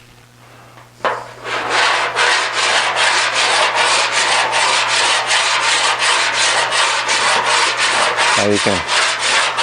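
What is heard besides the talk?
metal file rubbing over rough aluminum body panel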